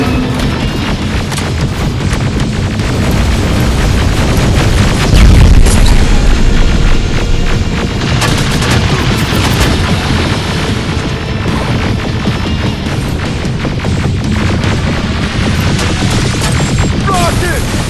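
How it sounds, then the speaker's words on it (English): Rocket explosions in the shooter Terminator Resistance: loud booming blasts and crashes over a constant din of combat, with one especially heavy thump partway through. "Rocket!"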